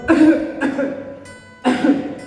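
Three harsh, forceful coughs in quick succession, close and loud, with brief pauses between them.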